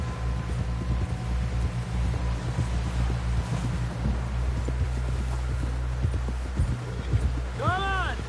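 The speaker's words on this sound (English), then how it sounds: "Someone help John down off this horse" Steady horse hooves clip-clopping at a walking pace under a constant rumbling background, with voices talking and a brief whinny near the end.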